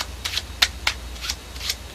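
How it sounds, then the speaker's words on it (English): A deck of playing cards is shuffled fast by hand, giving a quick series of crisp riffling snaps and flicks close to the ear, with no speech. "I've just shuffled the deck, and I haven't moved a single card."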